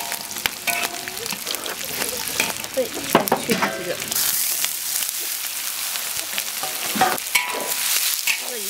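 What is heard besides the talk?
pork lung frying in a wok, oil rendering out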